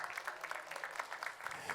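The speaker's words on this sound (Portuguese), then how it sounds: "Vamos aplaudir o Senhor" A church congregation clapping steadily and evenly, moderately loud, with no voices over it.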